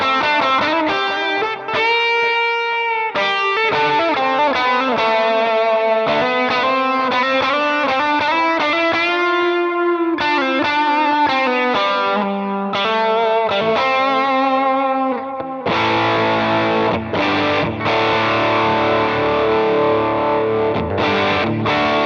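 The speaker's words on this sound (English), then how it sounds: "I like to back the guitar volume off just a little bit, and it cleans it, it brightens it up just a little bit" An electric guitar runs through a Line 6 Helix with a Prince of Tone overdrive, its volume knob eased back for a slightly cleaner, brighter crunch, playing chorded riffs and single-note lines that grow thicker and more driven near the end, loud and continuous.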